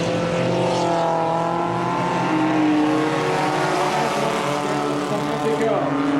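Race cars lapping at Cottage Grove Speedway, a steady dense roar of several engines at close range, with tones climbing and falling as the cars pass, under a commentator's voice.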